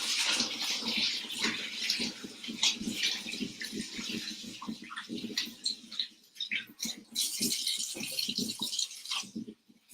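Hands being washed under a running kitchen tap, close and continuous splashing water with rubbing and dripping bursts, pausing briefly near the end.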